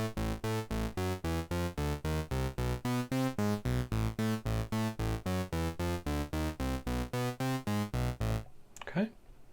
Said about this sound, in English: I also have a 16-step sequence already programmed into my Volca, which is going to sound like this